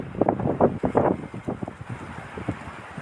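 Gusty wind from an approaching storm buffets the microphone in uneven bursts, loud at first and then easing off.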